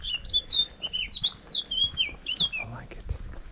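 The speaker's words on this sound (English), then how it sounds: "I like it. Bird." Small birds chirp and tweet repeatedly in high, quick phrases outdoors on a hiking trail in Brittany, France, with faint rustling beneath.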